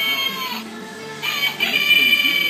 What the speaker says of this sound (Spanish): El gallo que no ha comido el pobre.